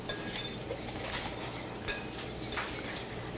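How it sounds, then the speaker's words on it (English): A spoon stirring milk with vegetables in a pan for an egg brunch dish, with soft scraping, gentle sizzling and a few light metallic clinks, steady and close with no talking. "I'm going to stir up again."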